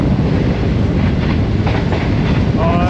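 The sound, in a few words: Green Line express train passing Harappa station at speed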